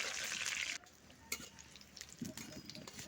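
Bay leaf, panch phoron and slit green chillies frying in mustard oil, a steady close sizzle that drops away partway through, then a few clinks and rustles.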